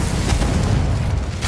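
A Confringo spell in Hogwarts Legacy on PS5 sets off a loud, rumbling, booming blast that fills the whole short moment with dense low roar, with no talking.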